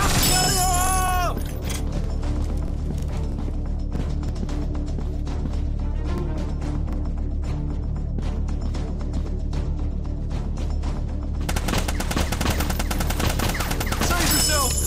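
Rapid automatic gunfire in a 3D first-person shooter mobile game, dense continuous volleys of close shots with a few brief game voice effects at the start and end.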